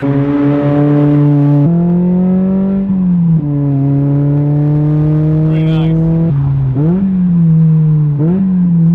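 Toyota MR2 engine revving as the car drives, loud and close, its tone rising and dropping through gear changes with a steady droning hum throughout.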